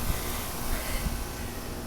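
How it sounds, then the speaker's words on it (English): Outdoor heat pump running steadily through a winter storm, a constant broadband whooshing hum with low rumble, loud and unbroken with no talking. "Please excuse the noise of the heat pump."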